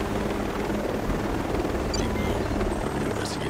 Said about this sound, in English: Thinking this is my helicopter that has the rockets.